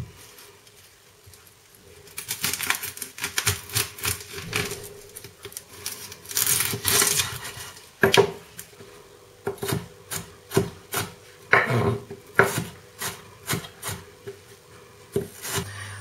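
A knife chops half an onion on a board, starting as soft rubbing then turning into a series of crisp, separate cuts in an uneven rhythm, close and alone.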